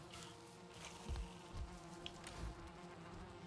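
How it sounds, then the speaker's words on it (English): Bees buzz around a beehive in the Valheim video game, a quiet steady insect drone with soft low pulses swelling now and then, heard alone. "Oh, it's a beehive. Yep. The bees are happy."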